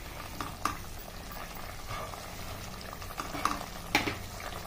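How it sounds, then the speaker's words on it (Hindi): A spoonful of wheat flour being stirred into a potato gravy in a pan: soft, bubbling simmer under steady stirring and scraping, with a few sharper clicks of the spoon against the pan. "अच्छे से हिला दे, आटे के लम्स ना हो, और अच्छे से चलाते रहे"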